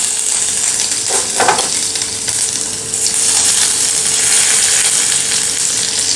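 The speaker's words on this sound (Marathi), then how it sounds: "तेल चांगलं कडकडीत गरम करून घ्यायचं आहे प्रथम आपण यामध्ये घालूयात जिरं नंतर आलं घालूयात" Cumin seeds and then ginger hitting very hot oil in a kadhai, giving a steady, loud sizzle and crackle throughout, with a brief burst of stirring or spattering early on and no talking.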